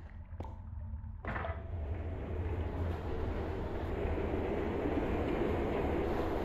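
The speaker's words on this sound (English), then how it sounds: "Oh, we love the minecart ride!" A minecart ride in the VR game Vertigo 2 opens with two sharp metallic clanks, then settles into a continuous loud rolling rumble of wheels on rails that persists steadily to the end.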